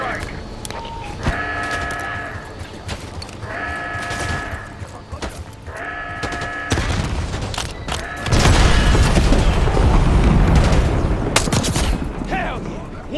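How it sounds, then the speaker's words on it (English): Heavy mortar strike explosions in a Call of Duty battle, a dense roaring barrage of blasts and gunfire that swells loud in the second half, with game voices and chatter over the earlier part. "Calling a mortar strike!"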